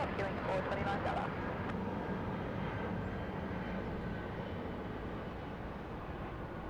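An aircraft taking off from runway 34 left at Sydney Airport makes a broad, loud engine roar that fills the whole stretch. It stays steady and eases slightly toward the end, with faint clicks near the start.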